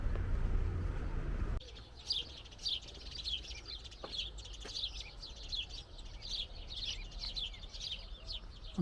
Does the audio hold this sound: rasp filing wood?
no